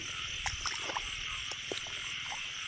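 Frogs caught in a rice field after rain croak in short, sharp bursts scattered over a steady low buzz of night insects and ambient hum. The calls are close and fairly quiet.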